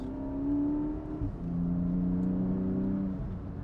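A Porsche 718 Boxster GTS 4.0-liter flat-six with a 7-speed PDK gearbox revs close by, its tone rising and then stepping down in pitch, a smooth steady whir with no voices.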